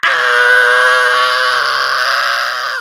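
A man lets out a long, loud, strained scream alone, holding it steadily for nearly three seconds before it trails off.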